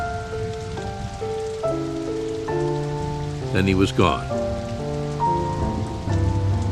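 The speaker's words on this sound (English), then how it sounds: "The next day, Napoleon came to see her in the driving rain." Heavy driving rain pours down steadily, blended with music, while a voice briefly speaks over it.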